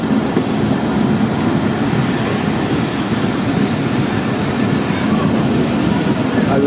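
Karakoram Express pulling out of Nawabshah railway station in Pakistan on a cold night, a loud, continuous low rumble and rolling drone of the moving train, steady from start to finish.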